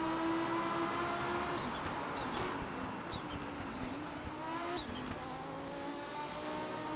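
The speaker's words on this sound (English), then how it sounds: "You can listen to that excellent sound of the Audi." Classic Audi race car engine in the RaceRoom racing game at Road America, a sustained loud engine drone with shifting pitch from gear changes and passing cars, continuous throughout without speech.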